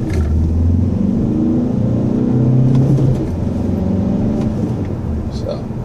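A 2013 Volkswagen Jetta SportWagen TDI diesel engine with a 6-speed manual rumbles and revs up steadily, pitch climbing through the gears before settling back, loud and close throughout.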